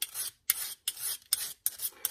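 A metal file rasps in firm forward strokes along the bevel of a steel hunting broadhead, five bright scraping passes with short gaps between them, close and alone with no voices.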